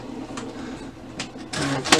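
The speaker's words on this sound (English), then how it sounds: "the printer's going to take a second to initialize" An HP Officejet Pro 6230 inkjet printer initializing after paper is loaded, giving a low mechanical hum with soft whirs and a louder burst of motor clatter near the end.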